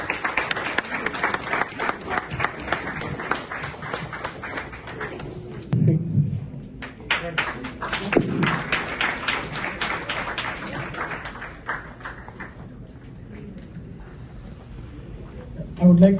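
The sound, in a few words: audience applause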